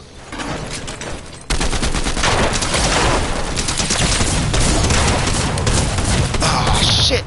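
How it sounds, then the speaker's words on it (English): Rapid gunfire from the Fortnite video game rattles in a dense, continuous fusillade, loud and sustained after a brief quieter start. "They lived after all that gunfire I sent into their body?"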